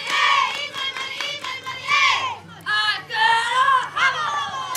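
A lively crowd at a middle school softball game shouts and cheers in loud, overlapping bursts of voices, with excited calls rising and falling across the whole stretch.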